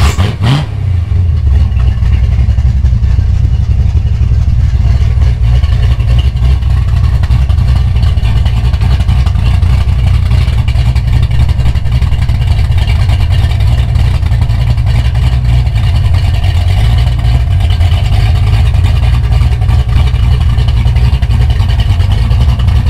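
A Foxbody Mustang's naturally aspirated engine starts and runs loud and close, holding a steady, heavy rumble with mild rev swells for over twenty seconds and no talking.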